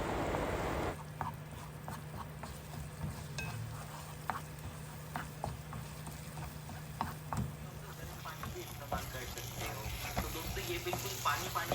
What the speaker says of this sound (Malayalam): എന്നിട്ടൊരു ലോ ടു മീഡിയം ഫ്ലെയിമിൽ വെച്ചിട്ട് ഒരു 3-4 മിനിറ്റ് ഒന്ന് വഴറ്റി കൊടുക്കുക.